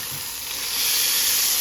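A quesadilla sizzles steadily in a warm pan just after being flipped, a close, continuous hiss that swells slightly louder midway.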